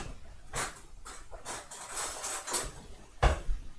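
A spoon taken out among kitchen utensils, with several light metallic clinks and clatters of cutlery spread over a few seconds, close by, with a sharper knock near the end.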